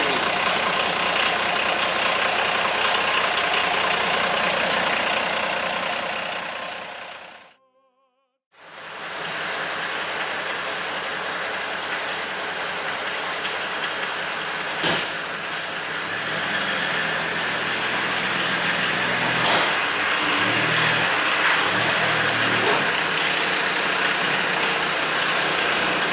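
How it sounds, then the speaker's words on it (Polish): A Volvo engine runs on a kerosene additive mix, idling steadily at close range, a continuous rumble broken once by a brief moment of near silence before the idle resumes. "Volvo chodziło już 15 minut na naszym dodatku z nafty."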